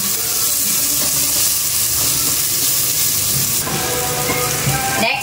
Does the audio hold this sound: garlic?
yes